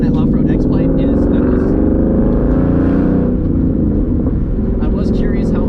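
A Ford Mustang with a Coyote V8 and off-road X-pipe exhaust rumbling loudly and deeply, a dense continuous burble with slight swells, heard close, while someone talks over it.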